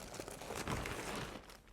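Clothes being unpacked from a plastic zip bag give a dense, continuous crinkling and rustling of plastic, close by and fairly quiet, lasting under two seconds with no talk.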